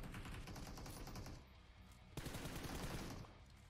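Dense bursts of rapid gunfire from a video game roar continuously, pausing briefly before another loud volley erupts.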